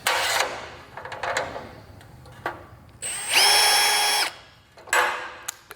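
Several bursts of a power drill boring a clearance hole while installing electric attic stairs, the middle one a sustained high-pitched whine lasting about a second, with short spin-ups before and after, close and loud.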